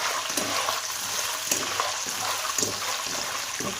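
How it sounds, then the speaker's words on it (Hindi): Cashews and almonds sautéing in oil in a cooking pan, a steady soft sizzle with faint periodic scrapes of stirring, close and fairly quiet with no talking. "इसमें हम थोड़े से काजू और बादाम सौते करेंगे"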